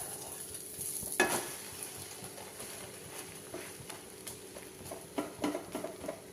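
Bread and egg sandwich frying in a pan, a faint steady sizzle broken by a sharp clack and scattered scraping taps as it is flipped and moved, close and quiet.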